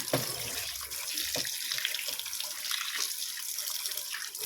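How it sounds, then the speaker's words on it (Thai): Snakehead fish is rinsed under a running tap, with water splashing and gurgling steadily into a sink, close and continuous with occasional louder splashes. "ล้างน้ำให้สะอาด ด้านนี้เราก็ล้างน้ำนะคะ"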